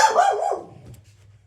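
A pet dog gives a single loud, close bark that trails off quickly into a quiet room.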